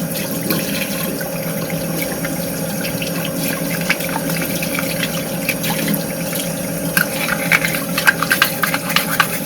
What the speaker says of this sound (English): I'm just gonna wash it out.